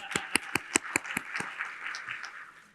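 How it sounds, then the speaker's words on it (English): Audience applause in a conference hall at a transportation research day awards session, honoring a poster award recipient: a burst of sharp claps near the start that thins into softer, scattered clapping, moderately faint. "clap loud enough she can hear you"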